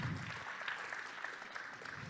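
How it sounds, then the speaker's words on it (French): Audience applause at an award ceremony for a data visualization hackathon, a steady wash of many hands clapping at moderate level throughout, with no voices standing out. "Il faut applaudir."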